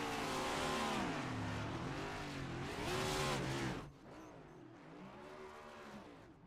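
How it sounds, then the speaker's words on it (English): A NextGen Cup race car in the iRacing game does burnouts at Atlanta Motor Speedway after the race, its engine revving up and down in waves over tire squeal, then dropping to a lower rumble. "the 13 is doing burnouts right now."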